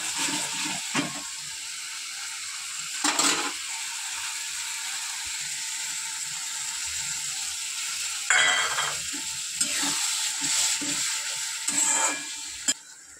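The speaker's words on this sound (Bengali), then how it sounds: "আলুগুলো দিয়ে একবারে ভালো করে কষাবো।" Spice masala and potatoes stir-frying in a pan, a steady bright sizzle with intermittent scraping strokes of the spatula, close up and without speech.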